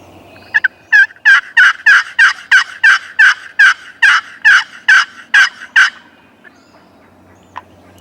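A wild turkey gobbles in a rapid burst of about a dozen loud, evenly spaced calls, then falls quiet apart from a faint distant note.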